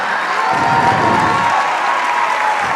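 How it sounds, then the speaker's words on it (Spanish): A seated audience at a talk on depression claps loudly and steadily for the speaker, a dense wash of applause that lasts the whole clip. "El aplauso fuerte para el doctor José Luis Marín."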